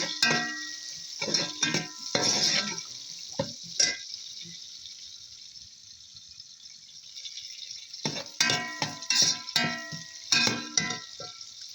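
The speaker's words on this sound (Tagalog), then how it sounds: "let's saute now garlics, then onions" Garlic and onions sauteing in oil in a pan for stir-fried pancit, with bursts of close sizzling and stirring scrapes that pause midway, then return loudly.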